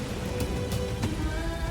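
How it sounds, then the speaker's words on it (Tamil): Heavy rain pours in a steady, dense hiss with a few sharp crackles over it, and no talking is heard. "மழை வேற நிறைய பெய்யுதுமா, இடி வேற இடிக்குதுமா"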